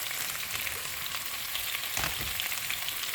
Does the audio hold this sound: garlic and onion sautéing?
yes